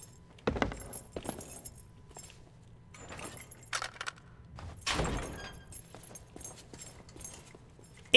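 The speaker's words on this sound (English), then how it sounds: "Now we are the dog with the keys." Jail keys jangle and clink in the pirate game Sea of Thieves, several metallic rattling bursts at irregular intervals with quiet gaps between, fairly close and unaccompanied by talk.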